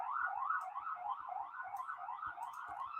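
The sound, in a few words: sirens outside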